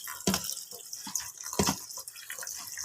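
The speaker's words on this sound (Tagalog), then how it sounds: "Buhusan natin ng tubig, palalamigin para hindi siya dikit-dikit." Water splashes over freshly cooked pasta for carbonara, an irregular patter of drips and gushes striking the noodles in a colander, close and moderately loud, with no talk.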